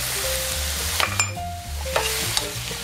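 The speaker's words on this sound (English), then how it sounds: "and then we throw in some tomatoes. These are little heirloom, little cherry tomatoes." Quartered heirloom cherry tomatoes hit a hot pan with spaghetti squash, setting off a steady close sizzle, with a few clacks and scrapes of stirring over a constant low hum.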